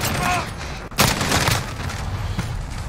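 Rapid automatic fire from a SCAR rifle in the video game Modern Warfare, loud and close in quick bursts, with someone talking over it.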